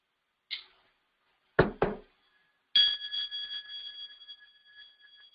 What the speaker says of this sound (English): So I'm just going to play the tuning forks and the chimes.